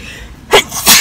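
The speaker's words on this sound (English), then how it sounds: "before I sneeze again" A loud, close sneeze bursts out in two quick explosive parts after a brief quiet moment.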